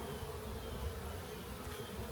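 Honey bees swarm around a hive frame during an apiary inspection, a dense, steady buzzing drone held close and continuous throughout.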